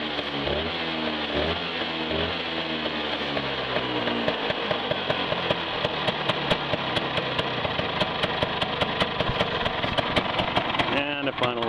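A 1965 Vespa SS180 Super Sport scooter engine revving loudly up close, a buzzing two-stroke note that rises and falls, then settles into a rapid even putter, with a voice over the engine.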